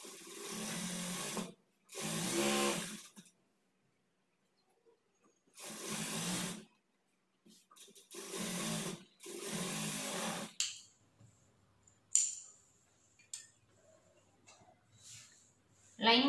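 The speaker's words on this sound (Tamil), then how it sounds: "லைனிங் கிளாத்தை உள் பக்கம் திருப்பிட்டு மெயின் கிளாத்தில் மேலே வந்து டாப் ஸ்டிச் போட்டுக்கோங்க" A sewing machine top-stitches a blouse lining to the main cloth in repeated bursts of a few seconds each, close and buzzing, separated by quiet gaps, followed by soft handling noises and faint clicks.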